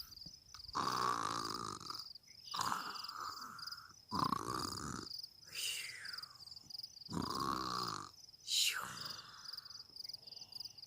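A voice imitates loud snoring: several long, rasping inhales and throaty exhales in a slow, repeating rhythm, close to the microphone.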